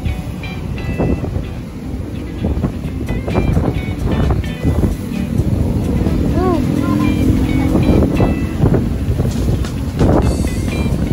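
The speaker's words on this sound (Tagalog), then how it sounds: "Ganyan kalakas ng hangin dito mga kabayan," Strong wind blowing across Manila Bay, buffeting the microphone in loud rough gusts for the whole stretch, with someone talking over it.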